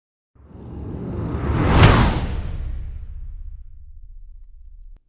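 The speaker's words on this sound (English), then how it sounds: "Let's beef up our whoosh with some drum layers to add some character and punch." A designed whoosh sound effect layered with punchy drum hits swells in, peaks with a sharp broadband burst, then trails off into a long low rumbling tail before cutting out.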